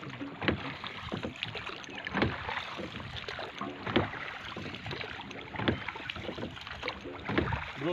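Rowboat travelling on water, with rhythmic paddle splashes and strokes roughly every second or so, close and clear over light wind noise, no talking.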